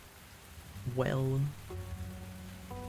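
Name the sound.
rain falling in the video game Tavern Talk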